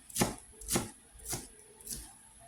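A knife finely chops a tight bundle of fresh cilantro on a board, four crisp evenly spaced chops, close and alone.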